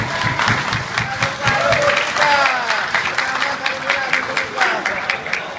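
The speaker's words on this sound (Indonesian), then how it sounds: "Kita bagi tepukan kepada beliau." Applause at an UMNO youth division assembly in Labuan, a crowd clapping in uneven bursts that rise and fall, with voices and cheering mixed in throughout.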